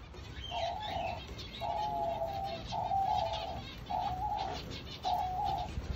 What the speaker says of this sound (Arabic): أترككم ثواني مع صوت نوح الحمام.